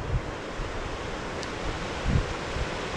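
Whitewater on the urban stretch of the Chattahoochee River in Columbus, Georgia, a constant broad rushing roar, with faint low thumps of wind on the microphone.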